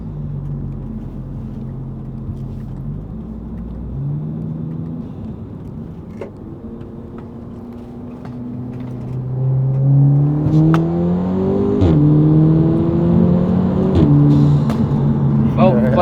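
An Audi S3 8V with a custom valved exhaust accelerates through the gears, a loud, deep engine note rising and dropping with each shift, growing louder in the second half as someone talks over it.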